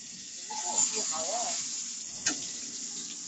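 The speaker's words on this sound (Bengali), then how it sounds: "এবারে সব ডিমগুলো ভেজে নিই।" Eggs frying in oil in a pan, a soft steady sizzle with a faint stir clatter, while a voice talks briefly in the background.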